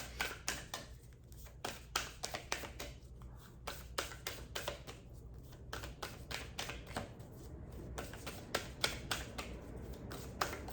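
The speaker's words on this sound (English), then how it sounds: "These cards are pretty big and pretty thick, so it takes some physical effort to shuffle" Large, thick cards are shuffled by hand in quick repeated riffles and slaps, crisp and close with a steady rhythm, heard alone in a quiet room.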